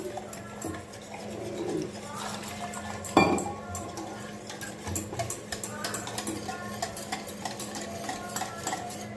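Millet flour being stirred with water in a bowl for kanji, a steady wet scraping and swirling with spoon clinks against the bowl, close and continuous, with occasional faint voice and a sharper knock midway.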